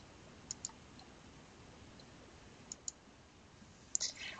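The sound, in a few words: computer mouse clicking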